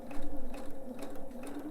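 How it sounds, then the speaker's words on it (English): Sewing machine stitching a quilt seam on a color wheel quilt, a short steady run of fast mechanical needle clatter, close and moderately loud. "I am using a thread here that contrasts so that you can see where I'm sewing."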